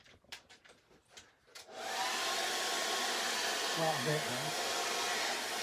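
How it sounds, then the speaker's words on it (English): A hand-held hair dryer switches on after a few soft knocks and blows in a steady, loud whoosh to dry a soft pastel painting of a crashing wave, with a brief voice speaking over it. "get your hairdryer, just speed it up a little bit"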